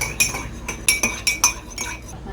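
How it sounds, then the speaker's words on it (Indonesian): Metal spoon stirring lime juice and soy sauce in a glass, a homemade cough remedy: five or six bright clinking strikes against the glass in an uneven rhythm, close and fairly loud, with no talking. "Ambil sendok lalu diaduk."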